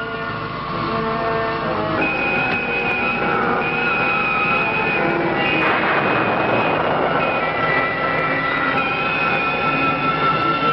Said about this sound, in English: More thrust. Mach 100. More. More thrust. I'm turning it higher.